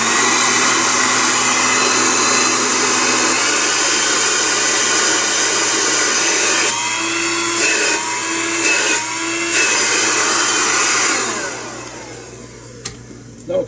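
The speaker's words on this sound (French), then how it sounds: "L'arrière du séchoir est maintenant nettoyé. On va juste faire un petit test rapidement." A freshly cleaned hair dryer runs in a quick test with a loud, steady whirring blow, then cuts in and out several times as it is switched between settings before winding down near the end.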